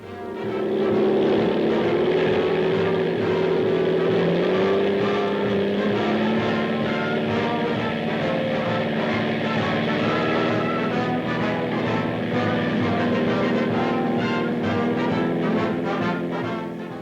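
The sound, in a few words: navy planes on carrier flight deck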